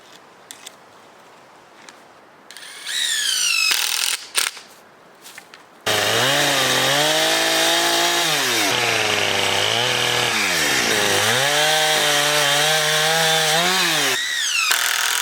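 Chainsaw cutting a freshly felled birch log into a slab: a few short bursts and revs, then a loud, sustained close-up roar with the pitch dipping and rising as the chain bites through the wood.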